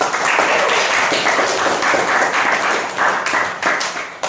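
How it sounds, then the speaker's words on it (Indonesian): Applause from a school classroom, a sustained round of dense clapping lasting several seconds, steady and fairly loud, thinning slightly toward the end. "Kasih aplaus"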